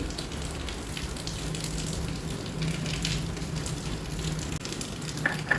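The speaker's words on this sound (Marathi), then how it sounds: "मीडियम फ्लेमवर ह्याला थोडंसं असं परत करून घ्यायचं म्हणजे मिठामध्ये जर काही मॉइश्चर राहिलं असेल तर ते निघून जाईल" Salt dry-roasting in a pan over a medium flame to drive off moisture, a steady soft crackling hiss that runs throughout with no voices, at an even moderate level.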